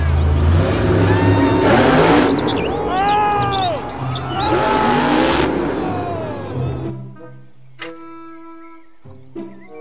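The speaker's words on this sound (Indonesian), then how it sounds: "mobil balap" A toy race car engine sound revs and warbles in sweeping pitch bends, loud and close, then cuts off abruptly, followed by a few short electronic beeps and tones.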